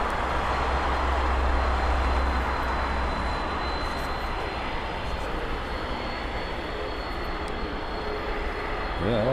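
An Aeromexico airliner in special livery at LAX passes with a steady, broad jet roar that fills the whole stretch at constant loudness.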